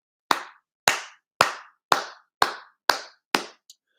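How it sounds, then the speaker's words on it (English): One person clapping hands, seven sharp, evenly spaced claps about half a second apart, loud and close in a quiet room, followed by a faint small tap. "The reason I'm clapping"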